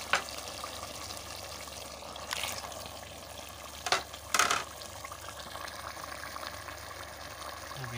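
Soft, steady sizzle of chicken curry cooking in a pan as tomatoes go in, with a few brief stirring clatters midway; quiet and continuous throughout.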